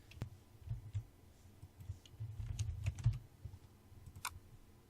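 A computer keyboard clicks under quick fingers, faint and close, in irregular clusters of taps with brief pauses.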